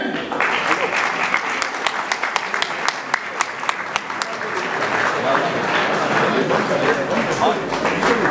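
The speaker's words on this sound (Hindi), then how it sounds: "हमारे सभी गेस्ट के लिए बहुत बहुत तालियां।" An audience at the inauguration of a yoga foundation in Badlapur applauds the guests with dense, sustained clapping that stays loud and continuous throughout.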